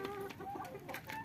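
Chickens on a rooftop cluck in short, overlapping bursts, faint and close, with a bit of background murmur.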